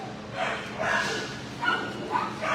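A shelter dog named Jenny gives a few short, moderately loud barks and yips, spaced apart over a faint room hiss, with brief bits of talk mixed in.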